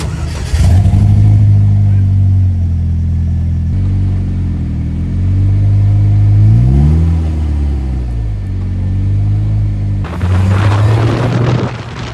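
A supercharged DF Goblin kit car pulls away. Its engine gives a loud, deep rumble that rises and falls as it revs through the gears, with a sharper burst of revving near the end.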